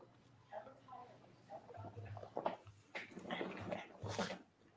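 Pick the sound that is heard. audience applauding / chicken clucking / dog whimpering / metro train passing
dog whimpering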